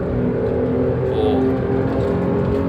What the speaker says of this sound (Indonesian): Udah kayak racing nih mobil.